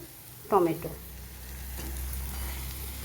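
Curry masala being stirred and sautéed in a pan, a brief scrape and clatter near the start followed by a steady low sizzle that carries on quietly.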